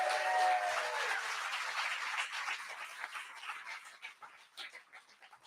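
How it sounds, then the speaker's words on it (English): An audience at a Gaelic culture evening cheers and applauds loudly, a dense burst of clapping and whoops that gradually thins and fades into scattered claps. "So give them a huge cheer."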